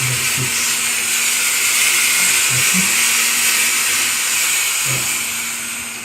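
Steam mop producing steam in normal operation, a loud continuous hiss with a faint steady hum beneath and a few soft knocking pulses, unbroken for several seconds.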